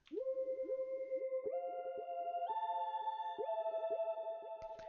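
A bright synthesizer melody from the Toxic Biohazard plugin in FL Studio, short plucked notes stepping upward in pitch, repeating in a quick bouncy rhythm, played alone.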